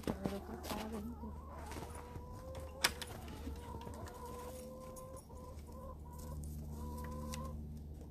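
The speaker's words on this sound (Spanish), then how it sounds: "Pues ahí están las gallinas." Several hens cluck steadily at close range in a rural yard, with insects buzzing and flies droning around them and one sharp knock partway through; no one speaks.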